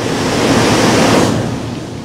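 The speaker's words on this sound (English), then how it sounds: "Man, this is a very powerful duct, water duct." Powerful rushing water roars through a water duct inside the Itaipu hydroelectric plant, a loud, steady broadband torrent with no break and no voices.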